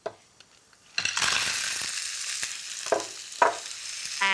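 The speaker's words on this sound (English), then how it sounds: "Great sizzle there." Loud, continuous sizzling and frying of pipis (vongole clams) in a screaming-hot pan, with sharp clinks and scraping of tossing and stirring.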